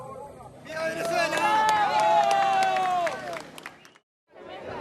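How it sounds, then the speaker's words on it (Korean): A crowd at a rubble site erupts in cheers and shouts after a rescue, a loud mass of voices with scattered clapping that swells and then fades, followed by a brief pause and more voices. "마침내 구조에 성공하자 곳곳에서 환호성이 터져 나옵니다"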